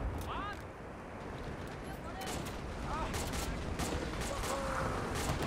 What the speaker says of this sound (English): Oh, we got artillery.